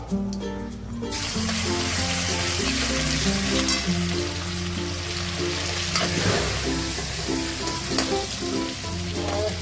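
Mustard seeds and cumin crackle and sizzle in hot oil for a ragda tempering, a steady, close frying hiss with scattered pops and some stirring, continuing without speech.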